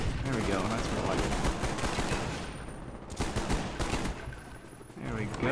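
M16 rifle fire in Black Ops 1 rattles on almost nonstop, with dense rapid shots and scattered gunfire from others blending into a loud, continuous barrage.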